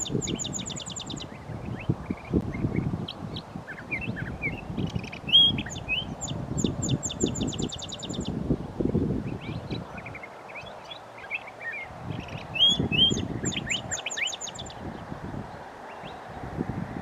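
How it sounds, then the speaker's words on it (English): Small desert birds, likely finches or cactus wrens, chirp and trill in repeated short bursts near a backyard bird bath, over steady rustling and breezy outdoor noise. "they're probably either finches or cactus wrens"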